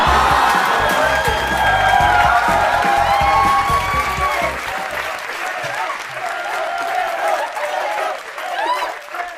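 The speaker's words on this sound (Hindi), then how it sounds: "आपकी भरपूर तालियों में फिरोज खान।" A studio audience bursts into loud, sustained applause with cheers and whoops as guest Feroze Khan walks on for an interview, the clapping thinning out toward the end while a host's voice carries over it.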